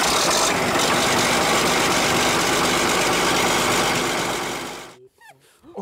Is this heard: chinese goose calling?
no